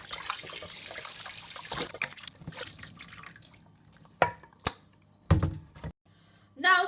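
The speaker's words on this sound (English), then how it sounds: "So we're going to wash it so all the blood comes out." Water runs and splashes while cut fish is washed, with a stream trickling early on and then several sharp splashes and drips near the end.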